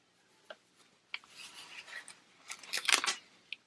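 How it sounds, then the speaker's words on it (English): Planner stickers peeled one by one off a sticker sheet, giving a few faint close scratchy tearing strips with short pauses, a longer rustling pull near the end. "I don't know why these stickers are giving me such a hard time pulling them up today."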